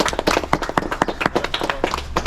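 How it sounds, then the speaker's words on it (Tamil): A small group of people claps at a shop opening in Ooty, a short burst of close, uneven hand claps with sharp individual hits, no other sound besides. "ஒரு வாழ்த்துக்கள் சொல்லிக்கிட்டு கைத்தட்டி"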